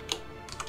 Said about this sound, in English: That's why you hear all the plinging, because I type wrong things.